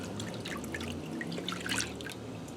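Milk being poured slowly into a flour roux in a pan, a soft trickling, bubbling stream that runs steadily and stays fairly quiet throughout.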